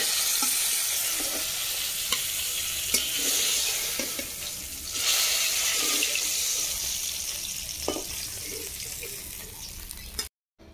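Rohu fish frying in hot oil, a dense continuous sizzle close up, with faint clicks and stirring touches throughout and no talking, cutting off abruptly at the end.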